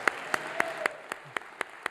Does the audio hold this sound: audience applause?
yes